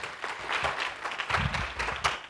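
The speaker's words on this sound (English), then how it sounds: "Let's give him a round of applause" An audience claps through a round of applause welcoming a speaker at an international pharmacy research conference, a dense, sustained patter of many hands with a few low voices murmuring underneath.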